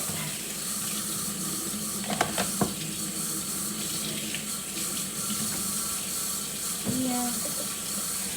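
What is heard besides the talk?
tap water running while rinsing the kitchen sink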